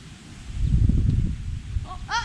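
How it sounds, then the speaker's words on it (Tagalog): A gust of wind buffets the microphone outdoors, making a low rumbling swell that peaks, then eases over a second or so. A brief high-pitched call follows at the very end. "Hangin lang."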